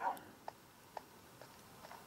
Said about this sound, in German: Ein Hund lebt hier einfach auf der Insel.